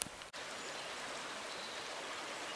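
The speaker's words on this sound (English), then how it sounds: "It's nice fresh water coming out of the mountains." A fresh mountain stream flows with a steady, even rush of water that fills the whole stretch, close and continuous after one brief interruption at the start.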